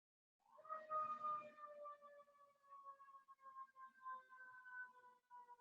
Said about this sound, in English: So even when we hear something like a siren, which you may hear, it's in my environment, it's all right.